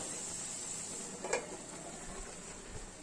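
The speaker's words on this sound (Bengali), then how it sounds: "আর এদিকে বসিয়েছি আমি ব্রোকলি ফ্রাই।" Broccoli frying in a pan gives off a quiet, steady sizzle with a high hiss, and a single sharp utensil clink against the pan cuts through partway, followed by faint low knocks. No one speaks.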